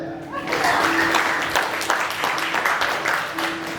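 Applause from a crowd of guests at a first birthday party, steady clapping filling the whole stretch at moderate loudness with a faint voice underneath.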